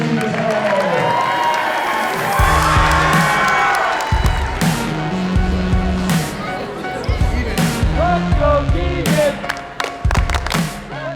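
A packed gym crowd of about a thousand at a high school wrestling dual roars and claps, cheers swelling and ebbing over loud rhythmic thumping music, with voices shouting throughout.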